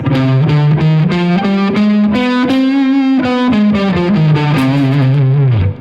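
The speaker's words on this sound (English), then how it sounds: "The minor harmonic scale is basically the Aeolian scale with a raised 7th." A distorted electric guitar plays a harmonic minor scale run of single notes, climbing up and then descending, with a thick effected tone and no talking.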